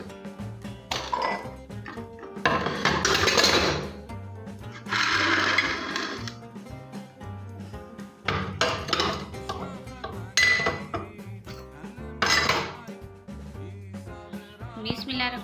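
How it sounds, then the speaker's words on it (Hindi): Dishes and pots clatter and clink in uneven bursts, as if being scrubbed and stacked in a sink, loud and close. "ये मैंने धोने हैं बर्तन।"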